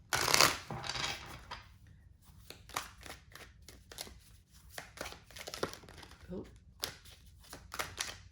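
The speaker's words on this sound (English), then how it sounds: "That was the King of Pentacles flipping over, and he's already on the spread." Tarot cards shuffled and flipped onto a spread, soft papery slaps and rustles in an irregular series, with a voice speaking quietly underneath.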